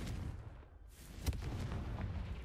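A Confringo fire spell bursting in Hogwarts Legacy: a muffled, booming blast over a steady low rumble, with one sharp crack about midway through the brief moment.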